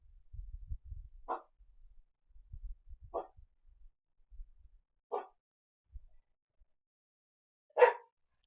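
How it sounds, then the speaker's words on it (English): A dog barks four times, single sharp barks spaced about two seconds apart, the last one loudest. Between them are soft low thumps and shuffling in an otherwise quiet room. "Stop barking."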